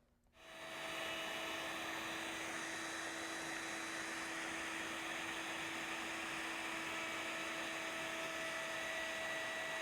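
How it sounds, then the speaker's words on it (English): Router table with a bearing-guided bevel bit spinning up and running steadily while cutting table edges, a loud continuous whine with a constant pitch. "we're going to use a bevel bit at the router table with a bearing on top"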